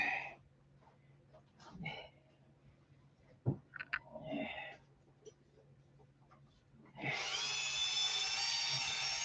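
A power tool with a sanding drum grinds into plywood, kicking in near the end as a loud, sustained high whine after scattered knocks and handling noises, with indistinct voices earlier.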